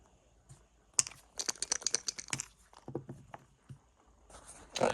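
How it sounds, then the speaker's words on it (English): Dice tumble across a padded merino wool backgammon board, giving a quick run of soft, muffled clicks and taps, close up and quiet, with a final clatter near the end. "Padded merino wool's got a perfect bounce going across. Enough to tumble the dice, but not so much it's going to bounce out."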